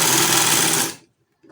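A sewing machine stitches a patchwork dress in a steady, loud, continuous whir, then cuts off abruptly into near silence.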